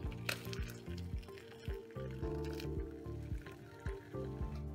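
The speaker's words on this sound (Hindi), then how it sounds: "छानने के लिए हम एक छन्नी के ऊपर इस तरह कॉटन का कपड़ा" Lemon-curdled milk chhena is strained through a cotton cloth set over a strainer, giving quiet, repeated wet squishes and dripping liquid close by, with no talking.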